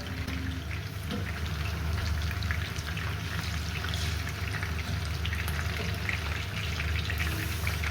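Raw minced meat for gola kabab frying in a pan, a soft, steady crackling sizzle, fairly quiet and unbroken throughout, with no talking.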